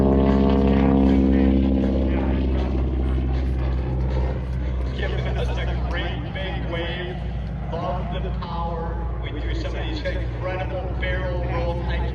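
Propeller airplane at an air fair carrying a wing walker, a loud continuous droning engine close by that holds steady throughout, with a voice talking over it.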